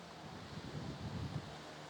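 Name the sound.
wind blowing into microphone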